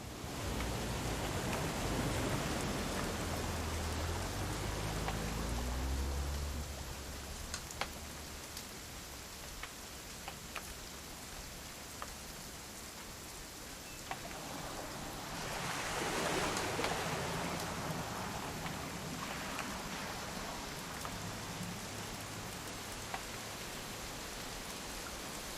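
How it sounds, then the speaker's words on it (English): Steady rain pouring in the video game What Remains of Edith Finch, a continuous wash of drops spattering on surfaces with a heavier surge midway. "It's gonna rain the whole weekend, isn't it?"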